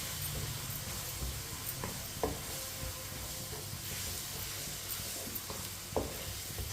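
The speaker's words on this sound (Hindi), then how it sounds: "अब इसमें दाल डालेंगे। अच्छी तरह मिक्स कर लेंगे।" Masoor dal lentils go into a hot pan and are stirred, giving a steady close sizzle and hiss with occasional scrapes and clicks of the spoon against the pan, and no voices.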